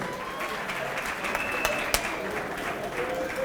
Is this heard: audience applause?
yes